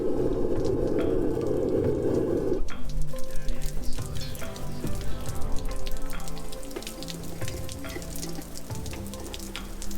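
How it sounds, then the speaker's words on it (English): Steady rain patters and hisses throughout, with a loud rushing burst at the start and scattered clinks and knocks over the downpour. "I'm starting to rush here just because it's raining outside"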